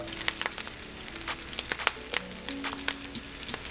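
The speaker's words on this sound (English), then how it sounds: "Drop into our oil." Breaded bluegill fillets fry in hot oil, a close, steady sizzle with frequent crackling pops throughout and no talking.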